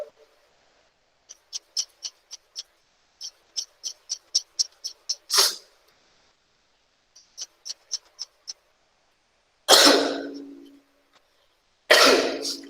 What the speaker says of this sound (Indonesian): agak kurang enak badan jadi sering batuk nih